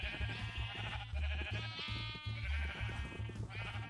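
A crowd of bred sheep in Minecraft bleats repeatedly, their quavering calls overlapping one after another above a steady low pulsing beat, close and clear without speech.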